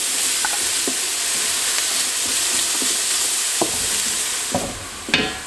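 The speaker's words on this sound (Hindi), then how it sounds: "ये 2 मीडियम साइज़ के प्याज हैं ये मैं इसमें डाल रही हूँ" Two medium onions tipped into a cup of hot oil for beef yakhni pulao, frying with a steady close hiss and sizzle, broken by a few sharp clinks and scrapes of a spoon stirring in the pot.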